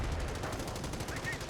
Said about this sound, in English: US sniper firing away and wipes out that squad.